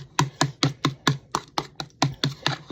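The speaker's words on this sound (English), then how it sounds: "And I'm going to stir this up" A utensil stirs still-warm, freshly milked and filtered goat milk into yogurt, giving about a dozen sharp, evenly paced knocks and scrapes close by with no voices.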